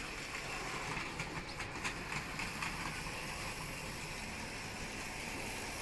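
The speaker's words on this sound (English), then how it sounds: "This first one is the 2008 Hornby Thomas, which I'm running today as it was the first ever train that I ran on this layout" A 2008 Hornby Thomas model train runs on a home layout, giving a steady, continuous rolling rumble with faint rhythmic clicking throughout, no voices.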